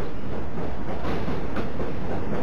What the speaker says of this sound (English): The train clattered off into the flickering distance, and Joe DeMarco remained unconscious